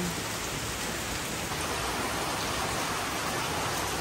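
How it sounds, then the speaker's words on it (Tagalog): Heavy rain pours steadily outside a small shop at dusk, a dense, even hiss of drops on surfaces with no let-up and no voices. "grabe po, malakas na naman po ang ulan. Talagang hindi na po natigil ang ulan dito sa amin."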